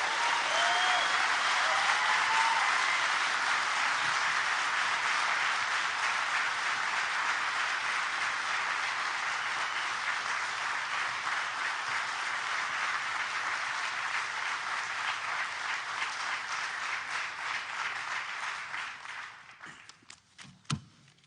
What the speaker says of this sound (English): Would you please give our TOs a huge round of applause that they deserve